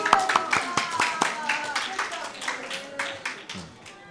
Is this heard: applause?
yes